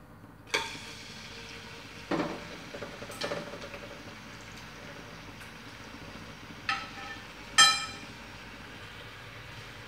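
Pork liver frying in a pan, with a steady sizzle and a few sharper spattering bursts and clatters from the pan throughout, no talking.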